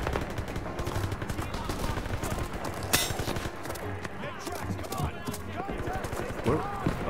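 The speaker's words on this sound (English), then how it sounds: "Somebody's shooting still here." Gunfire in the Call of Duty WWII game on PC, dense repeated shots and bursts running throughout alongside other game sounds, with a voice talking over it.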